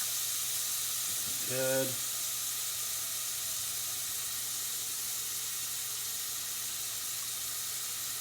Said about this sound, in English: Get the onion to start sweating and turn a little bit translucent.